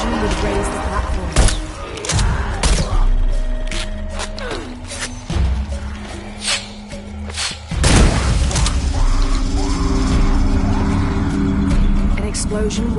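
A gas explosion goes off in Shadow of the Tomb Raider, a heavy booming burst about midway, with thuds, slams and clanking machinery earlier and rumbling game ambience throughout.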